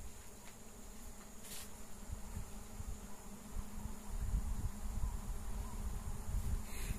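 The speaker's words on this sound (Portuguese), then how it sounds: "Nossa, barulho de abelha." Bee buzzing in a rural garden near long flowering plants, a steady low drone that continues throughout and grows slightly louder toward the end.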